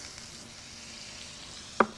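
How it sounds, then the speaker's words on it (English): A pat of butter, about an ounce, melts and sizzles with olive oil in a frying pan for a Greek chicken and olive casserole, giving a soft steady hiss that ends in one sharp clink near the end. "we've got to put 1 ounce of butter in our frying pan"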